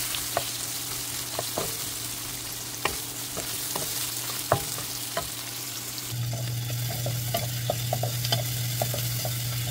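Onion frying and being stirred in a pan of hot oil, a steady loud sizzle with repeated scraping clicks of the spatula against the pan throughout.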